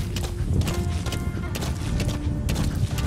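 Horse galloping in the video game Metal Gear Solid V, a steady clip-clop of hooves with a dense rumbling game soundscape and occasional bursts behind it, loud and continuous throughout.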